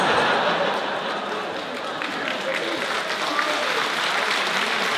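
A festival conference crowd in a hall applauds with a continuous dense wash of clapping and faint murmuring mixed in, steady from start to finish.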